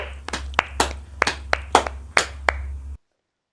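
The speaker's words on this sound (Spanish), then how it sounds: "Oh, un fuerte aplauso para el Rey de Reyes." Scattered, sparse claps from a church congregation, about ten distinct sharp hand strikes spread irregularly over a few seconds above a steady low hum, ending abruptly in silence.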